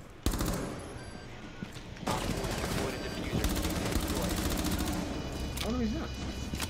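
Sustained automatic gunfire from a video game, dense and continuous for several seconds with a brief lull, loud and close, while a voice talks underneath.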